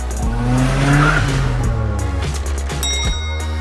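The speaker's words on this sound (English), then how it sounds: "Now I'll load up my green recycling truck." A Paw Patrol and Rusty Rivets toy green recycling truck rolls along as a loud, steady motor-like roar with tire-squeal textures fills the whole stretch, without talk.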